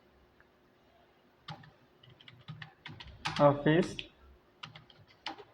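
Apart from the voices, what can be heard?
typing on a computer keyboard in Tally ERP-9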